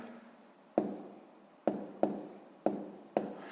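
Pen strokes on paper as a sixth-grade math exercise with fractions is written out: a soft continuous scratch broken by five sharp taps as the pen lands, close and alone without talk.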